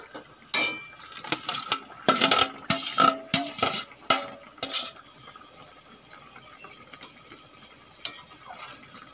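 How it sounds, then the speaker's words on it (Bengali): Fried dry fish (shutki) goes into a pan and gets stirred, giving a burst of sharp clattering scrapes and knocks from the utensil, close and loud, then thinning to occasional faint scrapes. "এর মধ্যে এখন আমি ভেজে রাখা শুটকি মাছ দিয়ে দেব।"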